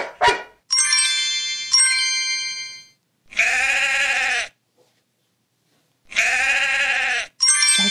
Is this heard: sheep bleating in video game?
yes